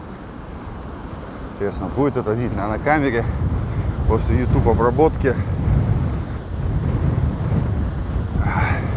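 Strong storm wind on Paralia beach in Anapa roars and buffets the microphone with a heavy low rumble while someone talks over it, gusts continuing after he stops.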